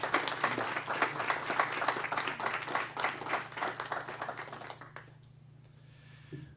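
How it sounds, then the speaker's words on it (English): Audience applause at a Napa County Board of Supervisors meeting, a dense steady patter of many hands clapping for about five seconds before dying away into quiet room hum. "I'd like to give them a round of applause."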